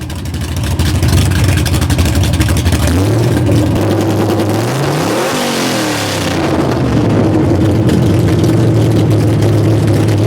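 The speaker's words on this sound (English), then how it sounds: "there's nothing quite like the unique sounds of an FE single overhead cam 427 engine" A Ford FE single overhead cam 427 V8 at a drag racing event in Mississippi, loud and close, rumbling and revving with rising and falling pitch over a continuous roar.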